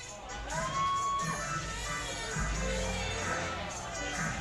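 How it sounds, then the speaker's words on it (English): Crowd at a Merchants evening baseball game with many young kids in the stands, a steady murmur of cheering and children's shouts filling the whole stretch, moderately loud and continuous. "Really nice crowd on hand here tonight. A lot of little kids out here"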